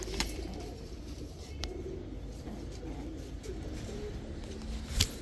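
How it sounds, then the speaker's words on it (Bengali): A pair of Chuithal high flyer Giribaz pigeons, a male and female, coo faintly and low nearby over a quiet, rumbling background, with a couple of brief clicks. "এখন দেখাবো একদম টকটকা লাল গিয়ারের এক জোড়া সুন্দরী চুইঠাল হাই ফ্লায়ার গিরিবাজ কবুতর"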